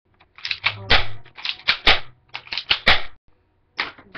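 An airsoft pump-action gun being handled and pumped, a series of sharp mechanical clacks and slides in quick irregular bursts close by, with a brief low hum partway through and a pause near the end.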